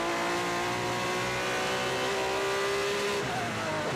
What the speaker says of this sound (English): Grabs a gear and then drops down a gear.